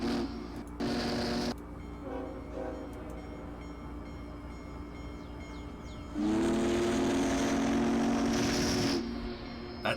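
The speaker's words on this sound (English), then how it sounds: "Horn battle. BNSF versus Big Boy." Train horns from a BNSF locomotive and a Big Boy steam locomotive sound one after the other, first a short loud blast, then a long, loud, sustained chord with rail rumble between the two.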